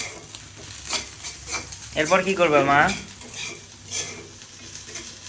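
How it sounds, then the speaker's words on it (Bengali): Onions frying in a pan at a home kitchen stove, cooked after eggs and peanuts for an egg curry: a steady close sizzle with stirring scrapes and utensil clinks, and a woman's brief spoken question midway. "এখন পেঁয়াজ ভাজতেছে।"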